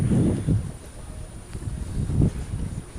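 Wind gusts buffet a microphone aboard a sailboat at sea, coming in rough, low bursts that rise and fall over a faint steady background, with no voices.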